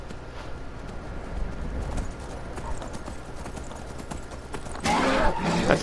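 A horse gallops through Skyrim with steady, rhythmic hoofbeats over a busy game background, building to a louder, brighter burst near the end.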